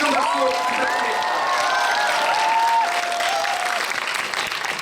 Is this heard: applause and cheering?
yes